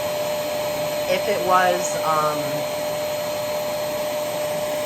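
A Riccar R25D upright vacuum cleaner motor runs with the brush roll off, a steady, moderate whine and airy hum while a person briefly speaks over it.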